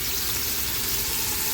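Onions sizzle and fry steadily in hot oil in a pan while rice is being cooked, a close, continuous crackling hiss with no voices.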